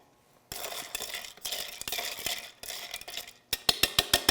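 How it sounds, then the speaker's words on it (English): A spoon stirs smoked tomato broth mix for a Bloody Mary in a glass, with swishing strokes and clinks, ending in a quick run of sharp, rhythmic taps against the glass. "And now we can stir that up a little bit."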